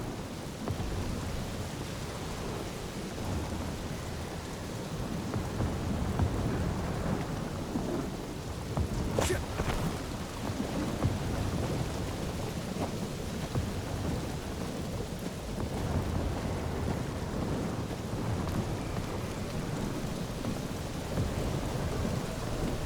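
Thunderstorm with steady heavy rain in the video game Guardians of the Galaxy, a dense continuous downpour with a sharp thunder crack near the middle and rolling rumbles throughout, loud and without talk.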